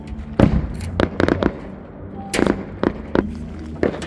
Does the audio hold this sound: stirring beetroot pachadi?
no